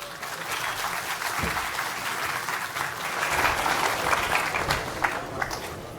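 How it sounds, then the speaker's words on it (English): Conference audience at the India Business Conference applauding, a full steady roar of many hands clapping that swells slightly in the middle before easing off. "Round of applause for them."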